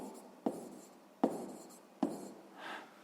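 Handwriting on paper during a sixth-grade maths exercise: three short scratchy pen strokes land at roughly even intervals, each with a soft tail, followed by a fainter rubbing stroke, all close and quiet with no talk.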